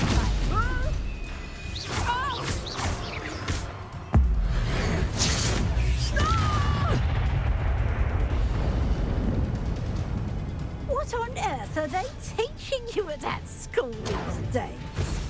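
A Confringo blasting spell explodes in the Hogwarts Legacy game amid loud crashes, whooshes and rumbling battle noise, with a sharp impact around the middle and voices calling out over the din.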